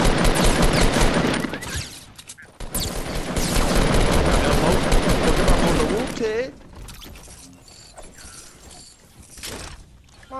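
Dense bursts of Fortnite Battle Royale gunfire, loud and rapid like a fusillade, fill the first six seconds, then fade to quieter game ambience; a player's voice is faintly present.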